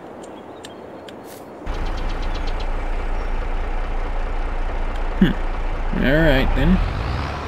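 A truck with a trailer in Farming Simulator 22 backs up, its engine a low steady drone throughout, with a brief hiss and a person talking over it near the end.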